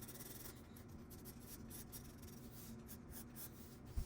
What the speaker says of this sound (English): We're gonna fix her with some colored pencil shading.